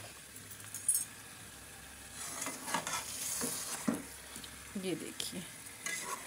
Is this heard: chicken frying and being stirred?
yes